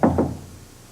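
Two quick, solid knocks on a door close by, followed by a brief fading resonance and quiet room tone.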